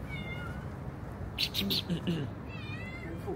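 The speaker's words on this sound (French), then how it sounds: "C'est mon petit pâte le chat, je lui ai donné à manger hier." A cat gives a few short, faint meows, one near the start and more toward the end, with a person talking nearby in between.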